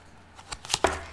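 Tarot cards being shuffled and picked make a quick run of four or five crisp, close flicks and slaps that grow louder over about a second.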